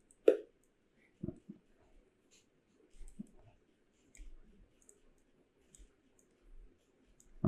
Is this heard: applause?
no